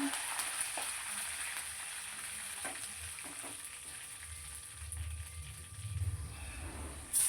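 Dried red chillies and curry leaves frying in hot oil for a tempering, along with crushed garlic cloves: a steady close sizzle and crackle with a few sharp pops and a brief louder burst near the end.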